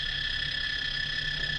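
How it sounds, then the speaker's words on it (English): An anti-homeless noise device plays a cicada sound: a steady, piercing electronic buzz with bright sustained tones, loud and unbroken. "when you realize that it goes back and forth into the sound of the cicada sound, it's just a loud, blaring noise"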